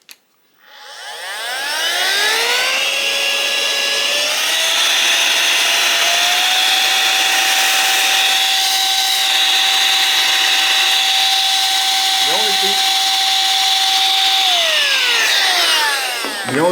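An electric air duster fitted with a small pointy nozzle spins up to a loud, steady high-pitched whirring blast, holds it for many seconds, then winds down.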